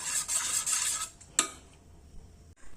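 A spoon stirs cucumber pachadi with curd in a metal bowl, bright clinking scrapes in quick succession for about a second, then a single sharp clink and a quieter tap, close by with no talking.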